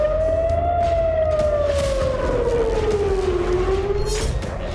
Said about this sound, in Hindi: बीती रात पूरे उत्तरी इजराइल में एयर अलर्ट सायरन